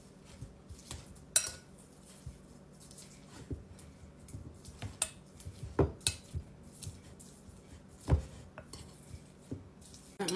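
A utensil scrapes and taps against a bowl as Philadelphia cream cheese is mixed with green onion, making faint, irregular clinks and soft squishing with quiet pauses and no talking.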